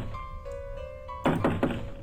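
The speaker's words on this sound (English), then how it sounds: "When I click it, it's just knocking." Knocking on a door in a haunted house video game: a quick series of about four loud, close thumping knocks in the second half, over a quiet droning ambient background with steady tones.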